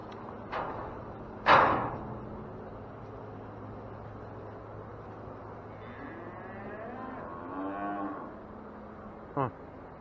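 Cattle being sorted for loading at a farm pen low into the air, a loud clanging bang early on and a drawn-out moo later, with faint background hum and a sharp knock near the end.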